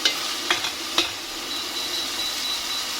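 Onions and tomatoes sizzling in a pan for ampalaya with beef tapa, with a few sharp scrapes of a utensil stirring near the start over a steady hissing fry.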